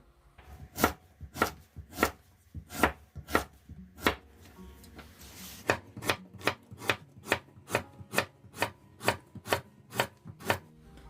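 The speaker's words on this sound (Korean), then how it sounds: "모가를 다 썰었습니다" Quince being sliced with a knife on a cutting board for quince tea, about twenty crisp, even chopping strokes at a steady rhythm, close and clear with no talking.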